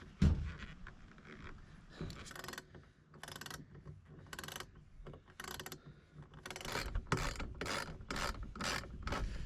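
A ratchet wrench tightens bolts on a truck canopy roof rack, with close bursts of rapid clicking separated by short pauses, growing quicker and more regular toward the end.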